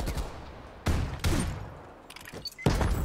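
Several sharp gunshots in the online shooter Call of Duty: Black Ops Cold War, with two close cracks, a short gap, then a quick pair and a final loud shot.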